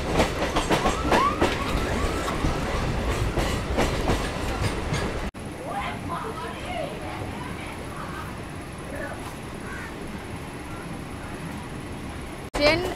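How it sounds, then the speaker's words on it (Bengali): A Kolkata local train runs on from Sovabazar Ahiritola station toward Burrabazar, a loud steady rumble of wheels with rhythmic clickety-clack that eases after a few seconds, with a voice talking over the run. "ট্রেন শোভাবাজার আহিরিটোলা স্টেশন ছেড়ে এখন যাচ্ছে বড়বাজারের দিকে।"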